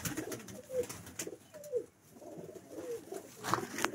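Pigeons coo repeatedly from a rooftop loft in Faisalabad, with soft, rolling calls recurring every second or so at close range amid light background noise.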